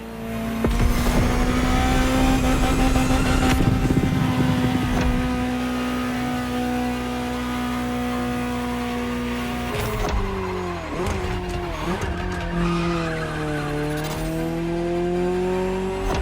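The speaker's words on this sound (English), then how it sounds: "just enjoy the collector's piece that is the Gran Turismo Omologato, or like Mr. Pignati Morano said, simply GTO" In The Crew Motorfest racing game, a Ferrari GTO engine drones loudly and steadily, with its pitch rising and falling, and tires squeal sharply throughout.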